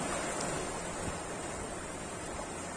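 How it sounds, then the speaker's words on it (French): Sea waves near Saint-Malo, Brittany, make a steady, full roar of surf mixed with wind, loud and unbroken throughout. No one speaks. "je vais me taire pour vous laisser déguster le son des vagues"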